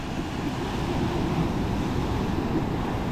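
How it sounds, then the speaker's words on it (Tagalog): Large ocean waves surge continuously at sea during traditional net fishing, a steady, loud rumbling wash with wind buffeting the microphone and no break across the whole stretch. "medyo malapit na pero malalaki yung alon."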